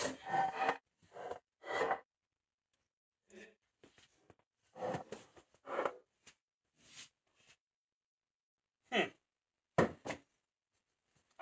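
Wood pieces are sawn a little thinner by hand in short, rasping bursts of strokes separated by pauses, close and fairly quiet, with no talking.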